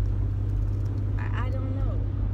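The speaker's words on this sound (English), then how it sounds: "do y'all see how fucking fast this car is going?" A car speeds along the road with a steady loud low engine and road rumble, and a person talks over the noise partway through.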